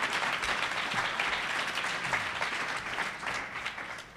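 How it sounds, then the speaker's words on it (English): A live audience at a Minneapolis mayoral debate forum applauds the candidates, with dense, steady clapping that fills the whole stretch at an even level before easing slightly at the end. "Let's give all of our candidates a round of applause for their answers"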